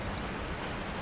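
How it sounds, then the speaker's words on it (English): Heavy rain from a storm in deep woods, a dense, steady drumming hiss of drops with no let-up and no voices. "the drumming of the rain"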